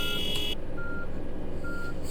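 Reversing beeps from a vehicle in FernBus Simulator, a steady electronic tone sounding in short regular pulses over a constant low engine rumble, alone without talk.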